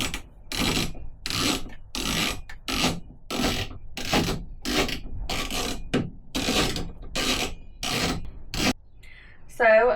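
A 10mm socket tightening nuts onto bolts during a Fiat Ducato camper conversion, heard as a close series of about a dozen short scraping, ratcheting bursts separated by brief pauses.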